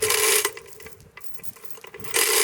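A hand-operated pulling tool is ratcheted to tighten a line on a tree leaning over a barn, with loud bursts of rapid metallic ratcheting at the start and end and quieter clicking in between, close by.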